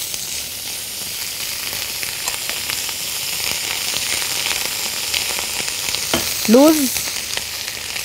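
Butter and minced garlic sizzle steadily in a pan, a continuous close frying hiss with faint crackles, briefly joined near the end by a short spoken word.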